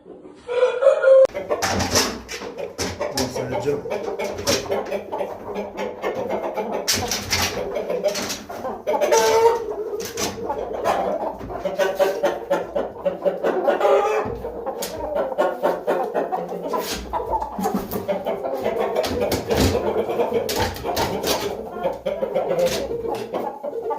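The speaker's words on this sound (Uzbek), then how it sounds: "mana xo'roz, Almatadan kelgan o'sha Xitoy" A Chinese-breed rooster brought from Almaty clucks and calls repeatedly at close range, with a few sharp crowing bursts standing out over a busy background.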